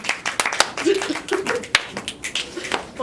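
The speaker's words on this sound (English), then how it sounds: "Give yourselves a round of applause and snaps and claps" Audience at a December poetry slam clapping and snapping fingers in scattered, uneven bursts, fairly close, with voices talking over parts of it.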